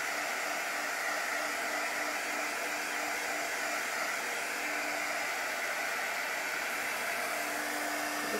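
A hair dryer runs steadily throughout as it dries a painted basket-weave transfer on a craft piece, giving a constant close whooshing hiss with no pauses.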